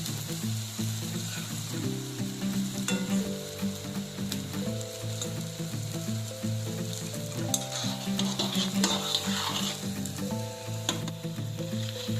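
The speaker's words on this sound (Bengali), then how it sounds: "এবার এই বড়াগুলিকে তেলের মধ্যে এদিক ওদিক করে আরও কিছুক্ষণ নেড়ে নেবো" Urad dal fritters for dahi bada sizzle steadily in hot oil while being stirred and turned, a continuous close frying hiss with soft scraping, under melodic background music.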